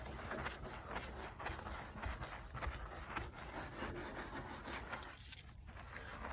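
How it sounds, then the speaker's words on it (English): Steady scrubbing on old 30-year-old paint of a 1992 Ford Ranger pickup, brushed with Purple Power cleaner, a continuous close rasping rub with rhythmic strokes and no talking. "I'm going to continue scrubbing this"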